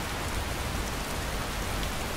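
Steady rain falls in the video game Skyrim, a dense, even hiss of drops on the ground throughout, loud and unbroken with no voices.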